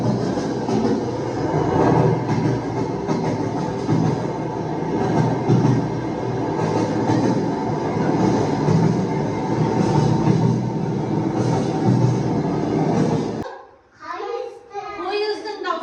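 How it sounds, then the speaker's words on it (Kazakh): A train runs with a loud, steady rumble for about thirteen seconds, then cuts off abruptly and a voice is heard. "Пойыздың дауысы болды, иә?"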